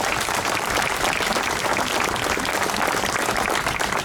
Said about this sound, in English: Let's give a big round of applause for Jim Balzer.